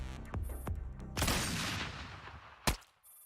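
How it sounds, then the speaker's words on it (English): Gunshots from the Girls Frontline video game ring out as sharp cracks followed by a loud, lingering blast with a long decaying rumble and a final crisp shot, loud and alone with no talk. "Just as she hears the gunshot."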